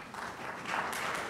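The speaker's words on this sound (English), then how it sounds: "Thank you for clapping up there" Audience clapping in a school auditorium during a winter performance event, a soft, diffuse wash of applause that swells slightly midway and stays steady without any talking.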